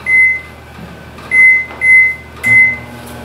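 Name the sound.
microwave oven running, heating plastisol in a Pyrex jar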